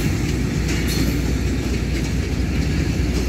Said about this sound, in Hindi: ये खैबर मेल का अराइवल हो रहा है लाहौर रेलवे स्टेशन पर